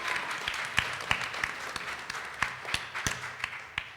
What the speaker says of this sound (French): Un applaudissement, bravo